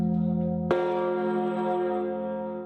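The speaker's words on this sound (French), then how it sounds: "la gigantesque cloche Emmanuel de 13 tonnes" The 13-tonne Emmanuel bell of Notre-Dame strikes once with a deep, heavy clang, then a rich resonant hum lingers and slowly fades.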